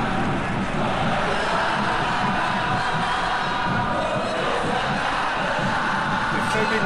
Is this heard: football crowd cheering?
yes